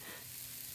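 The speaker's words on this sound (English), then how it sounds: "The sizzling vegetables on her stove decided to start burning." Vegetables sizzling in a pan on a stove, a steady, close hiss of frying that holds evenly throughout with no talk.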